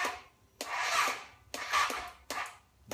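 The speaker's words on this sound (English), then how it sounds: "You can hear the starter motor trying to go" A Husqvarna starter motor tries to crank in three raspy whirring bursts of about a second each, close by and with short pauses between them.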